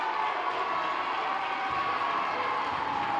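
Home crowd at a high school boys basketball playoff game erupting after a foul call, a sustained loud roar of cheering and shouting that holds steady throughout.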